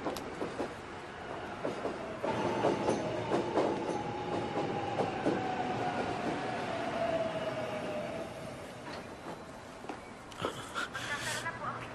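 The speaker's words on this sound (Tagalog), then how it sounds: "Paparating na po ang tren." A train pulls into a station platform with a long, steady rumble of wheels and a faint descending squeal, swelling in the middle and easing off, while people talk nearby.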